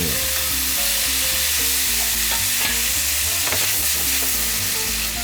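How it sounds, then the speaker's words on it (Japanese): Ground meat and tomato fry in a pan while being stirred, a loud steady sizzle running throughout with scraping and clattering strokes of the utensil in the foreground. "肉に火が通ったらトマトを投入。"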